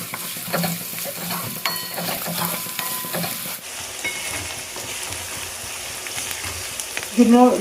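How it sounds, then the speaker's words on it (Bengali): Onions fry in hot oil for chicken kosha, hissing and sizzling steadily up close while a utensil stirs through them. "দেখো এই তেলে আমি মশলাটা ভাজবো আগে পেঁয়াজটা দেবো"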